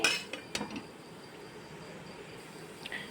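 Leftover roti noodles pan-roasting on a stove while a metal utensil gives a few light clinks against the pan near the start and end, over a quiet steady hiss with no talking.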